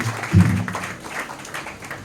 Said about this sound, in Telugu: అందరూ కూడా చప్పట్లు కొట్టి ప్రభుని స్తుతించండి